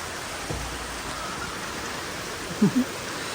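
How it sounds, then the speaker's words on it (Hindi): Rain falling outdoors in a steady, even hiss that holds throughout, with a couple of faint brief knocks near the end and no voices. "आपको आवाज़ आ रही है ना? बारिश आ रही है"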